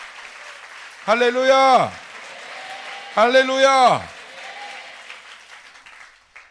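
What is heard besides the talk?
church congregation applauding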